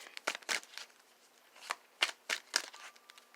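Tarot cards are shuffled in several quick, soft bursts of riffling and slapping, separated by short pauses, close and fairly quiet.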